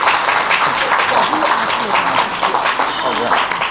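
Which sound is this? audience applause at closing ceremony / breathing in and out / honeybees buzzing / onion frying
audience applause at closing ceremony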